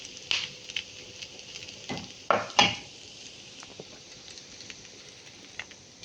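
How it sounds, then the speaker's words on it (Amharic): Red onion frying in a pan and being stirred: a faint, steady sizzle broken by a few short clinks and scrapes from the stirring spoon. "እንደዚህ ከሆነ በኋላ ቀይ ሽንኩርታችን እናደርጋለን።"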